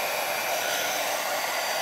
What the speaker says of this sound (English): just hit that with the heat dryer real quick. My heat gun.